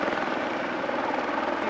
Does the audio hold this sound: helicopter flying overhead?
yes